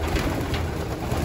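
Pigeons in a loft coo close and loud, soft throaty calls overlapping in a busy flock with no talk.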